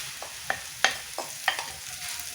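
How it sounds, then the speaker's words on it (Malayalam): Rice flakes roasting in a pan while a spoon stirs them, soft dry scraping strokes at a steady pace over a faint sizzle, close and quiet. "ഇതിലേക്ക് നമുക്ക് അവലൊന്ന് നന്നായിട്ട് റോസ്റ്റ് ചെയ്തെടുക്കണം."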